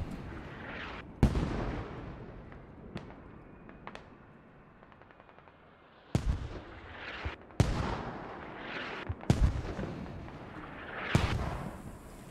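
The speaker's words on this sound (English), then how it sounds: "Mortars still fucking going away, dude. These mortars at the very end of the game." Mortar fire in the tactical shooter Squad: several heavy booming impacts and distant cracks arrive at irregular intervals, each loud blast followed by a rumbling tail, with quieter gunfire between.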